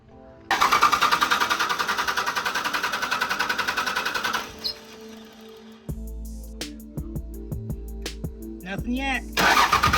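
Car engine cranking repeatedly as the starter whirs in a fast, pulsing rhythm for several seconds without catching, then stopping; afterward clunks, clicks and people talking are heard.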